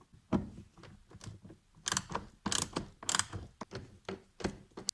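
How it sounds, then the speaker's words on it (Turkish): A screw is turned out of a Ford Focus 2 door panel, giving a run of close, quiet ratcheting clicks and scrapes in uneven bursts with no talking. "Vidamızın bir tanesini çıkartmış olduk."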